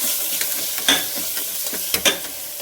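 Mutton keema mince fries in a pan with chili powder, giving a continuous light sizzle broken by several sharp scraping stirs of a spoon against the pan, close and alone.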